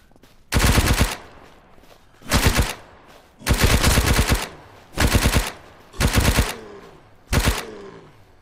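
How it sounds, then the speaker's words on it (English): Bursts of automatic gunfire from a newly acquired gun in the video game SurrounDEAD, six loud rapid-fire volleys of about half a second to a second each, separated by short quiet gaps. "Let's try out our new gun."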